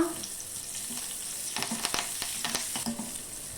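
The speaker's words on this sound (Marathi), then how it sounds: "ही फोडणी आपल्याला भातावर घालायची आहे" Green chillies, dried red chillies, asafoetida and curry leaves crackle and sizzle in hot oil, with sharp pops and bursts of spattering over a steady frying hiss, close up.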